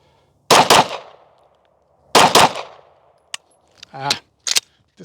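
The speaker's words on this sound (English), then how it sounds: "I'll walk down and I'll shoot 8 rounds and then we'll look at the pattern" Glock pistol fired at a shooting range, a few sharp, loud shots in short separated bursts, close by, with brief ringing decay and small clanks between them.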